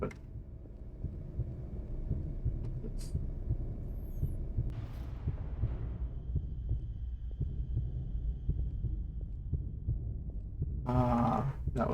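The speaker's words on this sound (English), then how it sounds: "I hear the heartbeat" A heartbeat in the video game Interior Worlds throbs with a low, steady, muffled pulse that repeats continuously, close and moderately loud, with a short hissing swell partway through and a brief burst near the end.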